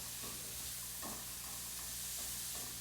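Garlic sizzles in a hot pan as it is stirred, a steady bright frying hiss with soft scraping pulses, close and continuous with no talking.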